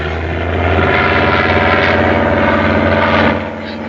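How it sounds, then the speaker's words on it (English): A propeller airplane engine droning loudly and close in a 1938 film soundtrack, a steady, dense roar that holds evenly and then drops off sharply near the end. "But that won't hurt you. It's only an airplane."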